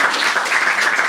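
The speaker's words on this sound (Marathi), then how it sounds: "एकदा टाळ्या वाजवायच्या" A short burst of audience applause, many hands clapping together in a dense, even patter at moderate loudness, lasting only about a second.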